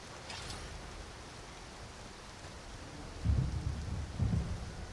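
Steady heavy rain hisses throughout a storm in the video game Skyrim, with two low rumbles of thunder near the end, soft and somewhat distant.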